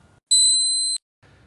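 Swing Beep golf swing training aid giving a single sustained electronic beep lasting about two-thirds of a second, clear and close, with a soft low rumble just before and after.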